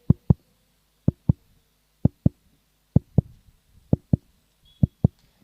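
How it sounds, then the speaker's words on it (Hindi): Heartbeat sound effect in a box cricket tournament broadcast: paired lub-dub thumps repeating at an even pace, five beats, loud and isolated with no talk. "दिल की धड़कनें तेज"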